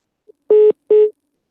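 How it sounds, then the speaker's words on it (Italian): A telephone line sounds its call signal on a broadcast phone-in, a faint blip and then two loud, steady electronic beeps of a single tone separated by a short gap, with no talk. "ci dicono che c'è una telefonata"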